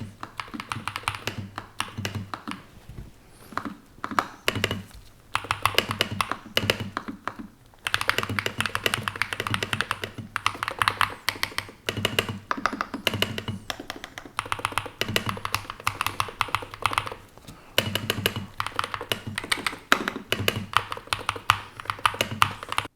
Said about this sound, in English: you want to hear how the keys sound when you type on them